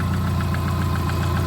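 A Subaru EJ251 engine swapped into a Subaru GL runs at a steady idle, close and loud, with an even rhythmic pulse and mechanical ticking throughout.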